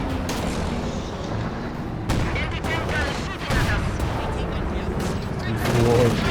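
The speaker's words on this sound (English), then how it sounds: "He's got a Soviet mortar and using the flares on it as well" Dense, continuous battle noise from Company of Heroes 2 fills the scene, with Soviet mortar fire and flares among repeated booming gunfire and explosions, loud and steady throughout with talk over it.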